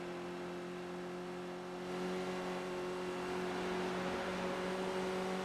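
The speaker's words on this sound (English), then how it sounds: "just hear that engine go for a few seconds" An on-board racing car engine at Virginia International Raceway during a race, a loud sustained buzzing whine that steps up in pitch as the car accelerates down the straight, continuous and close.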